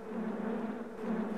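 Steady, even bee buzzing drones from a hole in the game Alien Cabal, a continuous insect hum at moderate level with no voices over it.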